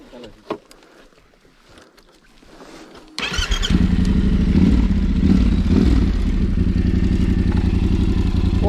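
A motorcycle engine starts after quiet, clattering moments in a forest and then runs loud and close, a steady rough drone with faint voices before it starts.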